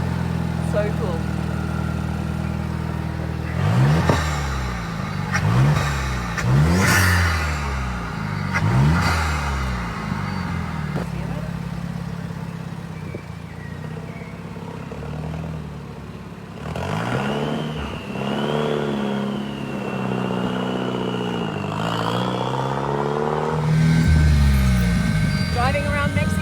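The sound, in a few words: Vuhl supercar engine revving while driving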